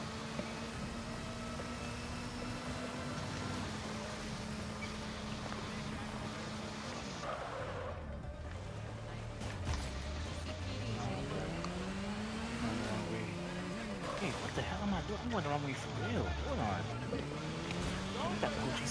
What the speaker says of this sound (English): the car is loud in this game